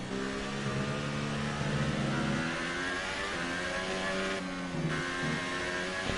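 A Formula 1 car engine in the F1 2018 video game revs high and steady, a continuous loud mechanical whine with brief dips in pitch, no voices.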